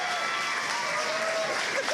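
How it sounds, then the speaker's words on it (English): An audience at a robot combat event applauds steadily, a dense wash of clapping heard at moderate distance with no break. "Everybody, round of applause for Kevin"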